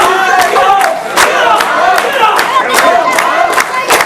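A crowd at a live independent wrestling show cheers and chants, loud and close, with rhythmic claps and shouts of encouragement. A commentator's voice can be heard under the noise.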